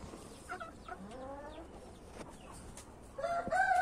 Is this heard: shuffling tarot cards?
no